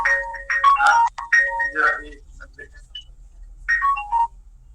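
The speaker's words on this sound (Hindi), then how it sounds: "एक मिनट में फोन अटेंड कर लूंगा" A phone ringtone chirps in a repeating melodic pattern, fairly close, with a brief pause before it rings again.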